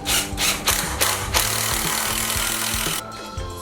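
Power drill biting into a wooden rug-making frame with repeated short bursts of grinding and rubbing, close and loud, the motor whine starting and stopping over a few seconds before easing off.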